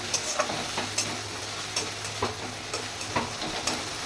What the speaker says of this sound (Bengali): ভালো করে এটা ভাজা করে নেবো